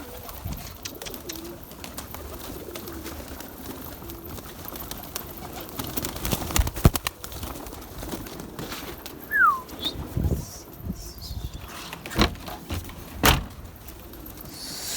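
Pigeons coo softly in the background amid outdoor ambience, with occasional knocks and clicks breaking through.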